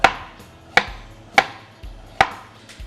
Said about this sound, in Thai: ซอยบางแบบนี้เลย ซอยเส้น ๆ บาง ๆไว้เลยนะครับ